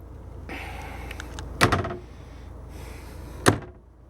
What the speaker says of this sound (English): Big sliding door closet.